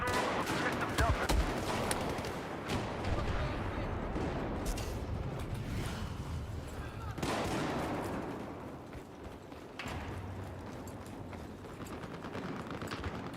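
Shotgun fire in a Battlefield 4 match: a few loud blasts burst out over constant battlefield noise, with a heavy shot early on and more near the end.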